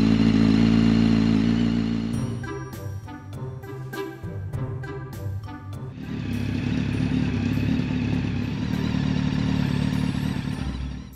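A Honda CBR 900 RR Fireblade motorcycle engine idles, cuts to a few sputtering, uneven firing pulses, then settles into a steady, loud idle as it warms.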